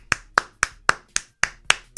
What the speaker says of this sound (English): I'm clapping my hands for Nick